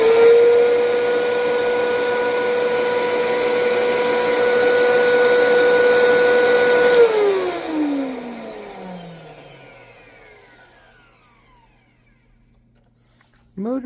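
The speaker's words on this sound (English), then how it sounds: "Motor is still a little loud than I think it should be" The motor of a refurbished Alright Altima runs with a loud steady whine and hum, then switches off and winds down in a falling pitch over several seconds, ending with a brief clunk.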